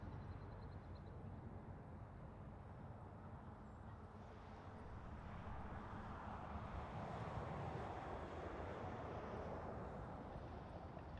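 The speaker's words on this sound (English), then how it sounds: "That was an A321 coming in from Edmonton." An Airbus A321 landing at Toronto Pearson airport, heard as a steady broad engine roar that swells slightly mid-clip, mixed with wind rumble, with no voices.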